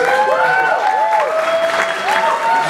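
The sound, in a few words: audience applauding the groomsmen at a wedding speech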